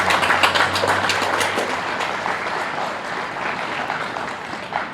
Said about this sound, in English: Let's give the Park District people a nice round of applause